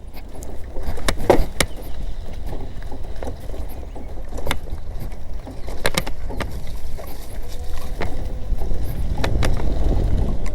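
A CAL ON Ellod 2.5 electric loader scooter rides over a bumpy road, giving a constant low rumble with scattered rattles and clanks from the jolts and no voices.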